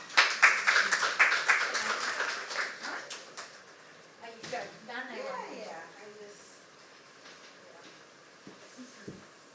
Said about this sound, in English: can I get another round of applause for Deshika?